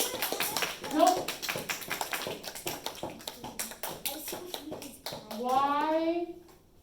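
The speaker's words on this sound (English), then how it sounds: "Why do I need you all to applaud?" Children clap along in a classroom, a long run of quick, fairly loud rhythmic claps that keeps going while a teacher talks over it, with young voices calling out near the end.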